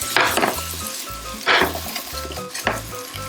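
Garlic sizzles in butter in a hot pan, a steady frying hiss that swells in three loud bursts as the pan is stirred, with low scraping and clinking between them and no talk.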